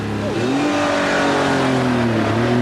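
Porsche 911 Carrera 4 with a 3.6-litre, 250-horsepower engine on a demonstration run at the 1989 Brighton Speed Trials, its engine droning steadily with a rising and falling harmonic pitch as it accelerates through gears.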